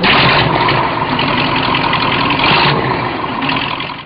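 Restored MT-LB tracked vehicle engine starting and running steadily at a test site, a loud, continuous close-up engine roar with no talk over it.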